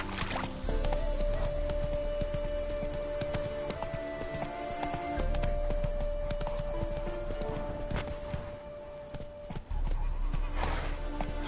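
Roach the horse gallops in The Witcher 3, hooves clip-clopping in a steady, driving rhythm close by for the whole stretch, over a sustained musical tone and game ambience.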